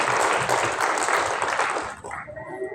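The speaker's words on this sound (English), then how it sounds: "We should clap for ourselves." Applause from an audience at a women's empowerment gathering, a steady dense wash of clapping that fades out after about two seconds, leaving quieter room sound.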